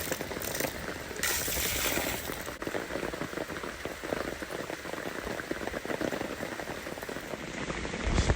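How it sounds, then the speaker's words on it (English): Rain falls steadily on a camping tent at night during a thunderstorm, a dense, continuous patter of drops on fabric, close and even throughout. "It's still raining."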